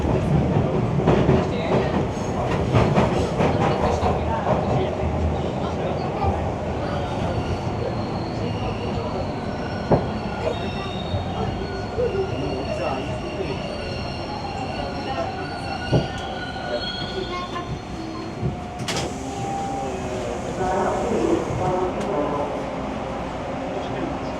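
A Toronto subway train on Line 2 pulls into a station, with rumbling wheels, clicking over rail joints and rising metallic squeals as it brakes, loud and close from inside the car.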